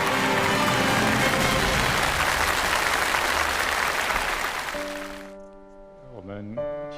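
Audience applause for a speaker at a formal event, dense loud clapping for about five seconds that fades out as a voice begins talking.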